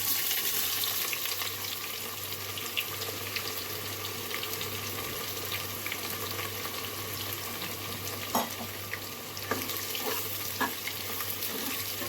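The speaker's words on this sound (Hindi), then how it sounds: "तो पेंयाज को काटी हल्का भाजा गद आकाना" Onions sizzle in a hot pan of oil as they are lightly fried for a Santali bean dish, a steady, close frying hiss with occasional stirring scrapes and clicks, and no talk.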